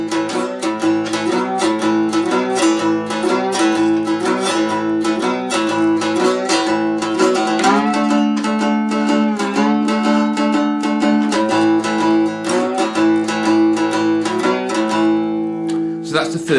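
A two-string cigar box guitar plays the first lines of a twelve-bar blues, steady plucked notes and shuffling rhythm, close and alone throughout.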